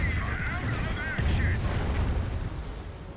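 Rocket barrage explosions in the Company of Heroes video game: a dense, continuous rumble of blasts with whistling streaks of incoming rockets, heavy and sustained under a spoken commentary voice.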